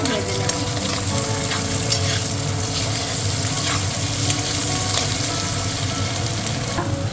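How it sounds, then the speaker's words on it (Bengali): Chopped onions, about five, frying in hot oil for a mushroom dish: a loud, steady, close sizzle with stirring scrapes throughout and no voices. "লাল করে ভেজে নেব।"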